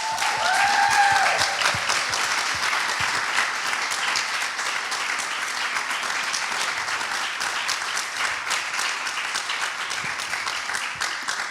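Sustained audience applause fills a crowded room during a celebration of the Miu Miu Women's Tales film series, dense steady clapping holding at a fairly loud level throughout with a few brief tones near the start.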